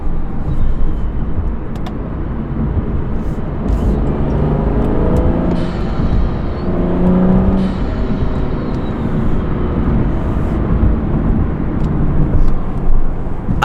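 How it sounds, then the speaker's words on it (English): A lowered car fitted with a CTS intake revs up with a steady, loud engine drone and rising harmonic sweeps, recorded up close and heard alone without talk. "he has a really nice CTS intake on it, and it sounds insane."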